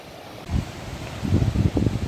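A waterfall on the Shrikhand Mahadev mountain trek gives off a steady, wind-like rushing roar that swells louder partway through, with deeper thumping surges in the water noise.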